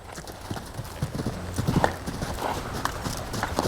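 Hooves of a young horse under saddle clip-clop steadily on soft ground, close by in an arena, with an occasional snort and faint talk underneath.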